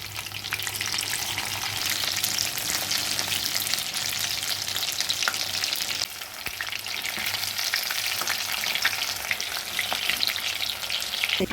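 Mint chicken kebabs fry over a medium flame with a steady, dense sizzle. The crackle stays continuous and fairly loud, with a brief dip near the middle, and no voices are heard.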